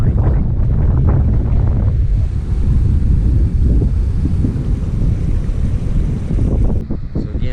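Ocean waves roll in against the lava-rock shore of a Maui coastal trail, with strong wind buffeting the microphone in a steady, loud low roar throughout.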